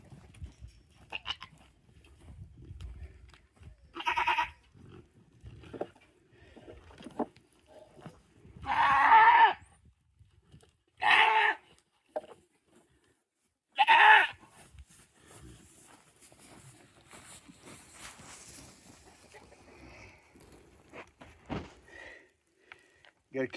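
A goat bleats several times in short, loud bursts spaced a few seconds apart, with quieter rustling and soft speech in the gaps.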